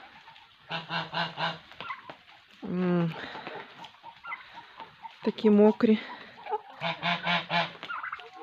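Geese honk loudly and repeatedly in nearby bursts on a muddy farmyard after rain, nasal calls overlapping, with a person speaking briefly between the honking.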